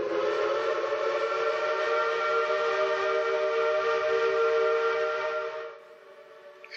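A long, steady train whistle with a rich chord of harmonics, sounding through the middle of a small town at night, held for nearly six seconds before cutting off into quiet.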